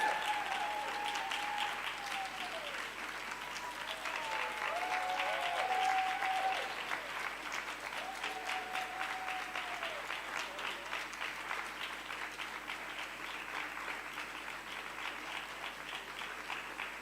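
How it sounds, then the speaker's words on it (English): Sustained audience applause at a Moth storytelling show as performers take a final bow, steady crowd clapping at moderate level with whistles and a few cheers rising above it, running the whole stretch. "Keep the applause going."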